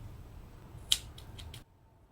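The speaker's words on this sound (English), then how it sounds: "cut off your yarn" Scissors snip through crochet yarn in one sharp, close cut, followed by a few softer snips before the sound drops to near silence.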